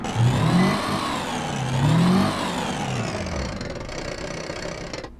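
A car engine revs up twice in rising, falling surges, then settles into a steadier hum as the pitch drops, loud and close with no talking.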